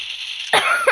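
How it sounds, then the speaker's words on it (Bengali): A person gives one short, harsh cough up close during a mobile Free Fire Max game, after a moment of quiet background hiss. "একটু কাশি ছিল আমার"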